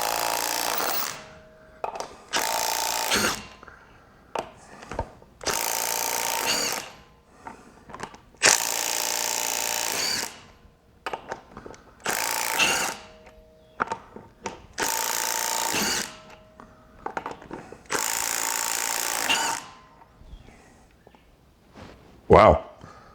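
Milwaukee M18 3/8-inch cordless impact wrench on its highest power setting, firing in repeated loud, close bursts of hammering rattle, roughly seven runs of one to two seconds each separated by short quiet gaps.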